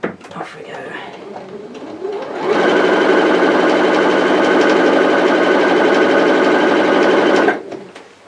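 A sewing machine runs steadily for about five seconds, stitching tape onto a roman blind, loud and close, starting after a short stretch of quiet handling.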